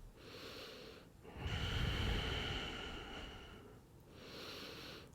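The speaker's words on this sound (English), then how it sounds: "Inhale and exhale." Slow, steady yoga breaths heard up close: a long airy inhale flows into a fuller exhale, followed by another soft breath, with no talking.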